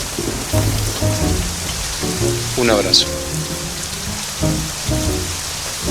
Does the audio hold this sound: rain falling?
yes